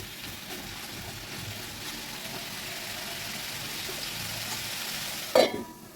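Watermelon rind curry frying and being stirred in a covered pan, giving a steady, moderately loud sizzle throughout with a sharper clatter near the end.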